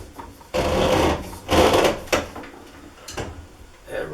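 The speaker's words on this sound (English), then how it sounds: "we're going to tighten that up with the channel locks" Several short, loud bursts of metallic scraping and grinding as channel lock pliers tighten a fitting on a hot water pipe by a washing machine, the strokes uneven and close up.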